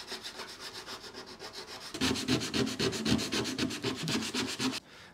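P80 sandpaper is worked by hand over a car body to remove paint and rust. It makes a close, rhythmic rasping scrape, soft at first, then louder rapid back-and-forth strokes for about three seconds before stopping.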